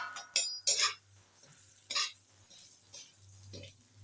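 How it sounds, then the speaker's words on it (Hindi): Sesame seeds being roasted and stirred in desi ghee in a pan, with a few sharp clinks of a spoon against the pan and soft scraping stirs, faint and close, with quiet talk underneath. "अब इसी में मुझे ये तिल अच्छे से रोस्ट कर लेना है।"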